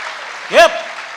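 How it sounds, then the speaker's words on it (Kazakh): Audience applause at a Jaidarman comedy battle between Taraz and Shymkent: a short burst of clapping crowd noise with a voice rising in a brief whoop or shout through the middle. "Дәкеге шапалақ мінеге"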